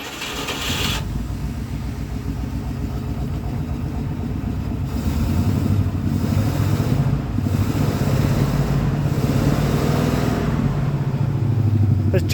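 Engine of a 1947 Cadillac four-door sedan idling steadily after a cold start, a low continuous rumble from a rusty but solid exhaust, with wind noise across the microphone and no talk.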